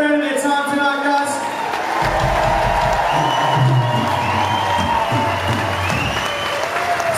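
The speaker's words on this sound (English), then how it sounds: "can we have a big round of applause?" A crowd at a benefit concert applauds and cheers loudly and steadily after the bands, dense clapping with whoops, while a voice speaks over the noise.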